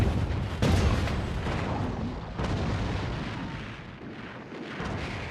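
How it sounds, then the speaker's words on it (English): Battleships shelling the Omaha Beach coast in 1944, a loud, continuous barrage of deep booms and rumbling blasts that roll into one another with no pauses. "Bombardment and shelling from the battleships pound the coast"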